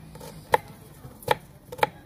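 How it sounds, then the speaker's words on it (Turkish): Onions being chopped on a board at an outdoor campfire cooking setup, three distinct sharp knife knocks spaced irregularly, fairly quiet against light background ambience. "O sırada ben soğanları doğrayacağım."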